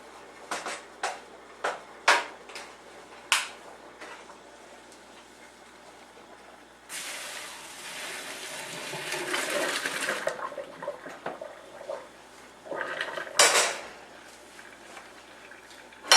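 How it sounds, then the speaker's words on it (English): Cooked elbow macaroni for mac and cheese tipped from a pot into a colander, a sustained rushing pour of water and pasta lasting a few seconds, framed by sharper clatters of the pot against the sink before and after. "Now you need to dump it out in a colander."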